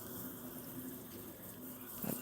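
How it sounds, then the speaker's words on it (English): A garden bubbler waters a pistachio tree, giving a steady soft gurgle and splash of running water, faint and continuous with a brief louder burst at the end. "It has a bubbler."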